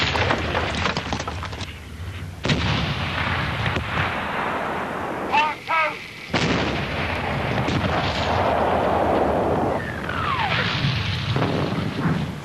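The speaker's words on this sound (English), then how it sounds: "The bombardment was directed along a 16-mile stretch of enemy trenches" First World War artillery bombards German trenches along a 16-mile front. Loud, continuous rumbling blasts roll into one another, broken by brief gaps and a few whistling streaks.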